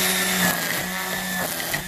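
A Ryobi 40V brushless battery-powered string trimmer (RY40270VNM) runs steadily at close range, a continuous high whine cutting overdue weeds, with brief shifts in load and no talking.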